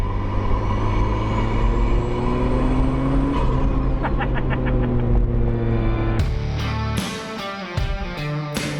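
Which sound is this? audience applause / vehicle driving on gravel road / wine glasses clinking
vehicle driving on gravel road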